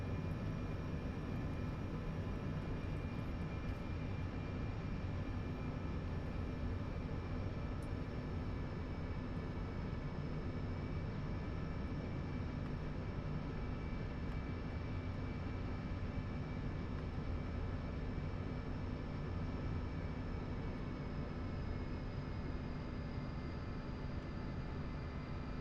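MiG-21 jet engine taxiing in the DCS flight simulator, a steady loud turbine roar and high whine held evenly throughout, with no talking.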